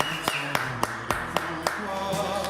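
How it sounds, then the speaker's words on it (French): An audience applauds a performer being introduced at a live show, with a series of sharp, evenly spaced claps standing out over a steady background murmur of voices. "Marine, qu'on peut applaudir très très fort."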